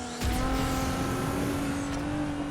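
Aston Martin racing in Need for Speed Heat, a loud continuous engine whine holding a steady high-revving tone after a sharp onset, with faint tire noise beneath.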